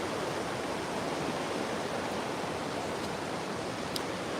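Creek water rushing steadily through a fish ladder at Creek Street, a dense, even broadband roar close by without pauses, with a faint tick near the end and no talking.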